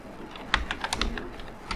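Rapid keystrokes tapped out on a computer keyboard, a close, uneven run of clicks with a few louder presses, and no talking.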